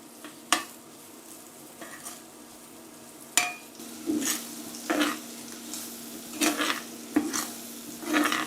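Onions sautéing in oil and butter in a pan, a soft steady sizzle broken by several sharp scrapes and clinks as a utensil stirs against the pan, close and fairly quiet.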